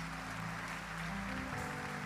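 A church congregation at a worship service applauds in a steady, even patter of many hands, faint and distant, with a low hum running underneath.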